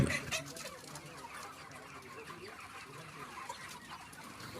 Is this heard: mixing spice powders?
no